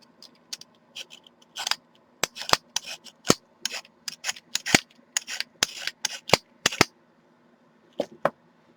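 A potato peeler scrapes across wrap in a string of sharp, crisp strokes, close and distinct, coming in quick irregular bursts with a short pause before two final scrapes.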